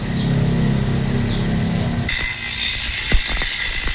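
A file rasps across the hard steel teeth of a handsaw during sharpening, a steady harsh scraping with a brighter, hissier grinding tone taking over halfway through and a few sharp knocks.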